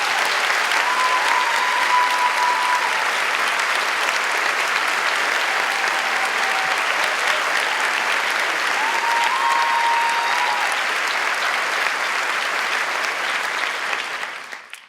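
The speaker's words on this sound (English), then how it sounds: "can we give her a round of applause" Sustained applause from a large crowd at a spring undergraduate commencement, a thick, unbroken roar of clapping with faint whistles that carries on steadily before cutting off at the end.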